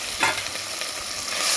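Ground cumin, garlic and pepper are stirred in a sizzling pan for rasam, giving a close, steady crackle broken by brisk scraping strokes of the spoon.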